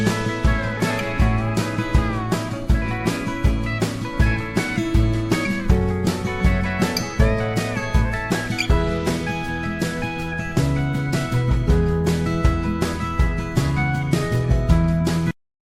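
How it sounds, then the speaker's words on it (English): A full drum kit mix, EQed in mono, plays a steady driving groove with punchy kicks and crisp cymbal hits repeating evenly for about fifteen seconds, loud and close, with no voices. "So with everything together, those drums mixed sound like this."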